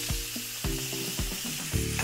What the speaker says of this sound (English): When you are searing any type of meat, but especially anything with a skin like chicken